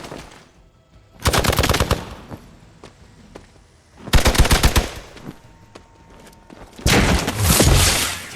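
Bursts of automatic gunfire in the video game Marvel's Midnight Suns: three loud, sustained volleys of rapid shots separated by quieter gaps, close and dominant with no talking.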